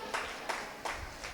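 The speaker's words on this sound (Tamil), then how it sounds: "கைத்தட்டி பக்கமே செலுத்துங்க" A church congregation claps hands in a few sharp, evenly spaced bursts, faint and somewhat distant in a reverberant room.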